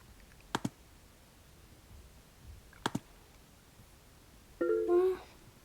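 A computer mouse clicks in two quick double-clicks a couple of seconds apart, close and sharp in a quiet room, followed by a brief voice at the end.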